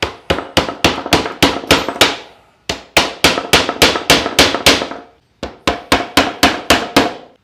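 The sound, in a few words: hammering small nails into wood to fix a guide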